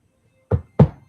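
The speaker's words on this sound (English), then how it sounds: "when you hear this knock on the door" Two solid knocks on a door, spaced about a quarter second apart, close and loud, with nothing else around them in the scene of a tabletop fantasy game.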